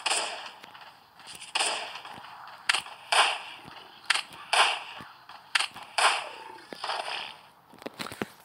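Gunshots from assorted guns in a survival video game, fired at a gas station: a dozen or so sharp, close cracks in irregular bursts, some doubled, over faint background noise with no talk.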